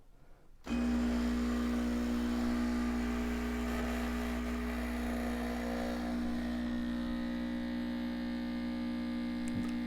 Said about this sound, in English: I'll turn the nozzle on the right and the machine will start preparing an espresso